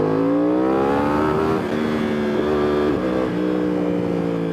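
A 2021 Yamaha R1 sportbike engine revs loud and close in first gear during a small wheelie, its tone climbing and dipping in steady pulls with no talk.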